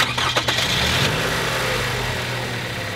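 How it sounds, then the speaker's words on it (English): A car engine cranks and catches, then settles into a steady, close idle hum with no voices present. "a good way of checking that is just starting the car up."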